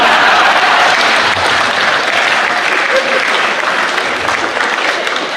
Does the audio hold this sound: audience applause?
yes